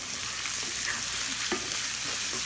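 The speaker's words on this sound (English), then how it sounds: "So you do want to fry it around with the ketchup in it." Meat frying in a pan with ketchup stirred through it, a steady close sizzle with light scraping and a few small clicks of the utensil, no talking.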